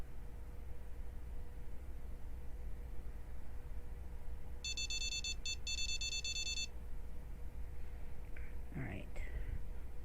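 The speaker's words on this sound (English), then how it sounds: "I'm glad for this little beeper thing here. So learn to wait for those beepers" Beeping bite alarm in the Fishing Planet video game, a rapid series of electronic beeps in two bursts lasting about two seconds, over a low steady hum, followed by faint whispery speech.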